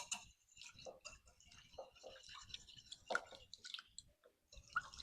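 Popover batter whisked by hand in a bowl, a quick irregular series of light clicking taps and wet squishes, close and steady with no talk.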